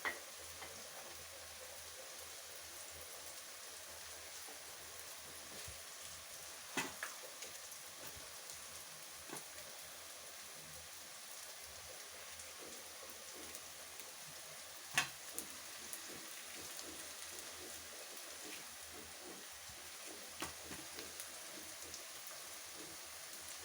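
Onions sautéing in oil in a pan for vatha kuzhambu give a steady, soft sizzle, with occasional sharper stirring ticks throughout and no talking.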